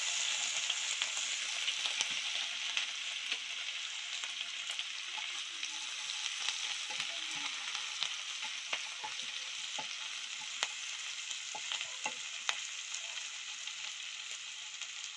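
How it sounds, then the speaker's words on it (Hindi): Ginger-garlic paste frying in hot oil for egg curry, a continuous bright crackling sizzle with scattered sharp pops and spatters, steady and close throughout, with no talk. "इसके लिए पहले मैं ये अदरक लहसुन की पेस्ट रखा था वो मैं डाल रही हूँ। थोड़ा सा इसको भून लेती हूँ।"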